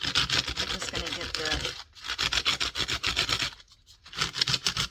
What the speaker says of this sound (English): I would keep your sandpaper going the same direction